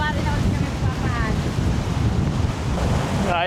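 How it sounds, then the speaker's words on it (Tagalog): Strong wind buffets the microphone at a beach campsite in Baler, Aurora, a steady loud roar with surf-like rushing that continues throughout with no speech. "Napakalakas ng hangin."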